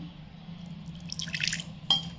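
A short, light splash and trickle of water poured into a bowl of rice-flour colour powder, fairly faint against a quiet background hum.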